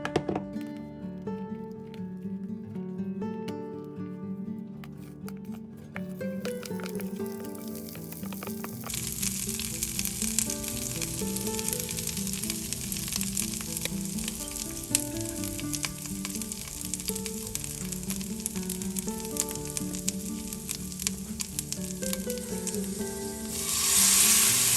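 Beans frying in a pan for refried beans give a steady, close sizzle that thickens after the first few seconds and runs continuously under a bed of background music, with occasional small crackles and pops.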